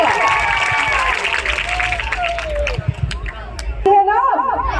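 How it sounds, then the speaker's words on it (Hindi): An audience at a live science-experiment demonstration claps in a dense burst that fades out, with crowd noise, tonal voices and a few sharp knocks over it, then a brief loud voice near the end. "एक बार जोरदार तालियों से स्वागत करें इस भूत का।"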